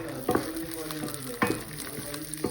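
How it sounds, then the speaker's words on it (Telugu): Cashews and raisins fry in hot oil in a pan for Hyderabadi-style mandi biryani, giving a steady nearby sizzle with a few soft scraping stirs rising through it. "కాజు కిస్మిస్ ఫ్రై అవుతున్నాయి"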